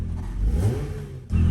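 An Acura MDX engine idles and revs after a spark plug replacement, with a rusty muffler leak. The low engine drone swells briefly and then settles, near and alone.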